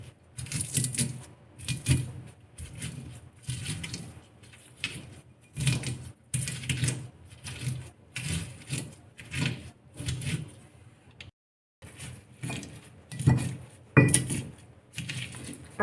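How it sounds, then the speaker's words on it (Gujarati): Thecha chutney of oil-fried chilies and fresh coriander being pounded on a stone silbatta, steady rhythmic thuds and scrapes repeating close by, with a brief pause near the end before the pounding resumes. "આવી જ રીતે આ સિલબટ્ટામાં ખાંડી લેવાની છે આ ચટણી ઠેચા."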